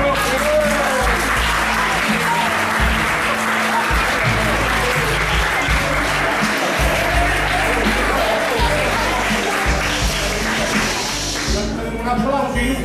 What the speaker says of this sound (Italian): Un applauso inutile, perché non è ancora proclamato il dottore